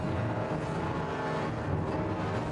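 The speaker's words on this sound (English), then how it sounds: "complete with engine noises, because the Ford Anglia shows up at the end of the Aragog fight." Ford Anglia car engine in the Harry Potter and the Chamber of Secrets PC video game, a steady droning engine hum held at constant loudness, with no speech.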